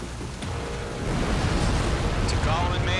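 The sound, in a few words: explosions in video game Ace Combat 7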